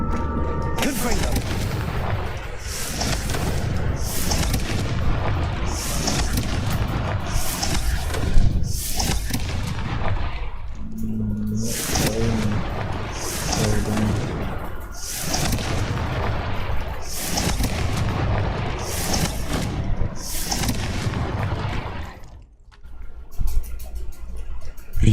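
Repeated blasting-spell explosions from Hogwarts Legacy, each a loud booming burst followed by crackling debris, arriving in a rapid rhythm of roughly a dozen blasts with combat effects between them.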